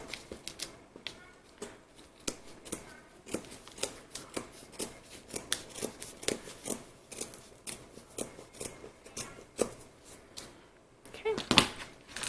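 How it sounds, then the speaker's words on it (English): Scissors cut fabric around a small curve on a sailor gaiter sewing pattern, giving a steady run of crisp, close snips at a brisk rhythm with light paper and fabric rustling. "I'm going to grab my scissors for this little curve."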